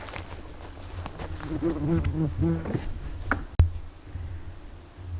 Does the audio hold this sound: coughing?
no